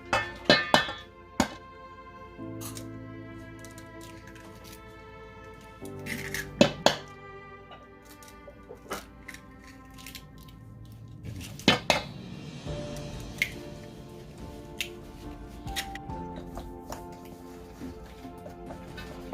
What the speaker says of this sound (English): Now I'm going to add the eggs to the flour.